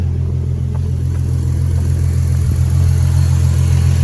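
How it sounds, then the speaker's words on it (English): A 2014 Ford Mustang V6 engine with mufflers removed rumbles loudly and steadily at close range, its deep, raw exhaust drone holding an even idle with no talking. "All I have done to it right now is deleted the mufflers, so it sounds a little bit better"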